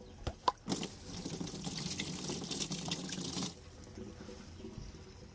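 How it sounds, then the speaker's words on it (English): Water rushes through a homemade duck pond filter during a sediment flush, a steady hissing gush that runs for a few seconds after some knocks, then cuts off, leaving quiet drips. "I'm going to give this a quick flush just to dump any major sediment out of it"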